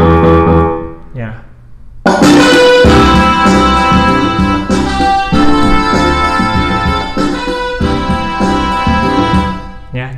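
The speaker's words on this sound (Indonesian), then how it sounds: "jadi itu suara dari keyboardnya seperti itu ya" An electronic keyboard plays through a GMC 899Q Bluetooth speaker, a short soft phrase followed by loud, sustained chords and notes that ring on steadily with no talk over them.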